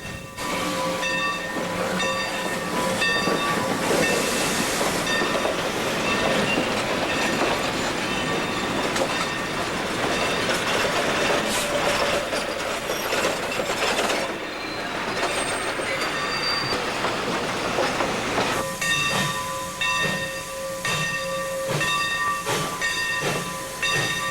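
An HO-scale model railroad freight locomotive runs continuously, with a dense rolling and hissing mechanical sound, squealing wheel tones and a brief lull partway before the running noise resumes.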